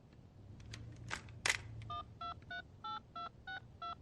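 A telephone is dialed: a few soft taps and a click, then eight evenly spaced touch-tone beeps in a steady rhythm, clear and close.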